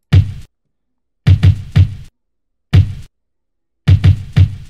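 A lo-fi drum pattern programmed in FL Studio with no swing plays dry punchy kick-like hits in short clusters separated by silence, rigid and mechanical in timing.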